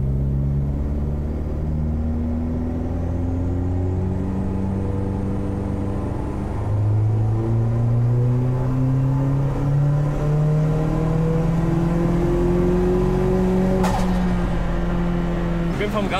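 A 1.8-liter turbocharged engine in a VW Golf 3 with a DSG gearbox revs loud and close, pitch sweeping up and down in a sustained drone, with people talking over it.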